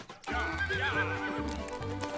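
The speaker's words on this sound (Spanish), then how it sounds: "¡Pobre caballo, tío!" A horse neighs loudly and close, a long shrill whinny with shaky, wavering pitch, followed by snorting and a few shorter calls over a low rumble; no one talks.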